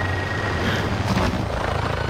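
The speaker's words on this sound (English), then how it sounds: "The helicopter's too loud." A loud video game helicopter drones steadily, its rotor chop throbbing close by, with occasional faint voices underneath.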